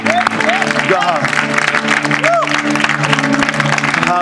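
A church congregation applauds in praise during a worship service, steady dense clapping filling the room with voices and musical tones sustained underneath.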